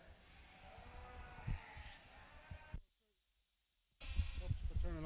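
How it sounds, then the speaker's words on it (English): Sheep bleat at a livestock show in a cattle pavilion, including Dorset sheep, amid crowd noise and a loudspeaker voice, with a brief near-silent gap before the noisy hall returns. "Certainly a great group of sheep out here all the way through in this show"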